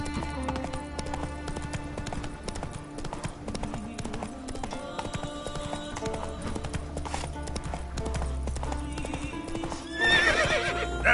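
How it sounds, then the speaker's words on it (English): Roach, the horse in The Witcher 3, gallops with rapid rhythmic clip-clop hoofbeats over game music, then gives a loud neigh toward the end. "That's it, Roach."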